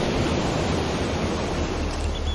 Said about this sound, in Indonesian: aku mendengar debur ombak yang pecah